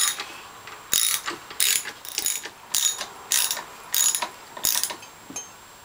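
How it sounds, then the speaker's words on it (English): Ratchet wrench tightening two bolts on the underside of a Norwalk juicer pump, heard as about seven short bursts of rapid metallic clicking, close and fairly loud, with brief pauses between strokes and no talking. "tighten the two bolts on the bottom of the pump"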